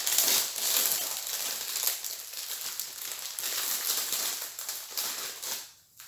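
A plastic packet of ladyfinger biscuits being torn open in a kitchen, giving a steady stretch of close, soft crinkling and rustling that fades out at the end.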